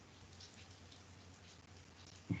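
Heavy rain falls steadily, a soft, even hiss of patter heard faintly in the background with no voices, and a single brief knock near the end.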